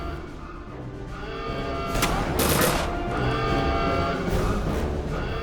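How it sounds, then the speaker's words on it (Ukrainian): A few loud gunshot bursts in the video game Return to Castle Wolfenstein crack out over a constant rumbling game background, spaced a couple of seconds apart. "здається, постріл тільки що був знизу, зліва."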